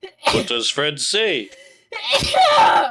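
A single sharp sneeze bursts out near the mic right after a short spoken question, loud and breathy, among people chatting in a casual podcast setting.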